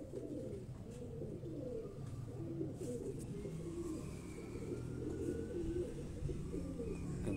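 A pet pigeon, kept by a Karachi pigeon fancier, gives soft, low, repeated cooing close by over a quiet background, with no speech.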